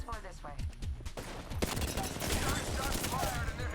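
Rapid bursts of gunfire in Apex Legends crackle continuously in the background while people talk over the shooting.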